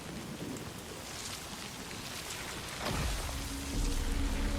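Timefall rain in Death Stranding 2: a steady hiss of rainfall that thickens and grows louder toward the end, with low rumbling beneath it and no talk.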